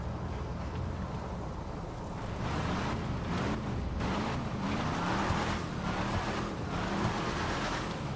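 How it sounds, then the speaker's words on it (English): A Dodge Durango Hellcat SUV in GTA V rumbles steadily while driving off-road, its engine note rising and falling with a faint rushing of terrain underneath. "See how good a Hellcat Durango does off-road."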